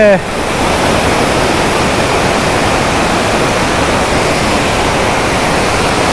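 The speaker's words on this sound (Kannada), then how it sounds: "ಮೇಲಿಂದ ನೀರು ಬೀಳ್ತಿರೋದು ಅಲ್ಲಿ" Steady, loud roar of falling water at Surlabbi waterfalls, Coorg, India, a roadside fall; a dense continuous rush filling the whole clip without pause.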